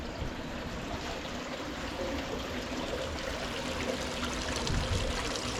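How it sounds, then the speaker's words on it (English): Water flowing steadily through an abandoned stone building at Colonial Springs in Valley Forge, a continuous close trickling rush with no voices. "Got the water flowing through here."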